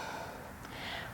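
A single soft inhale through the nose during a yoga practice, quiet and close, with a faint airy rush and no talking.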